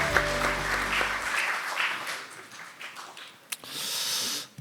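Audience applause at a Korean science and technology ceremony in the National Assembly, a steady wash of clapping from a seated crowd at moderate level, fading out near the end.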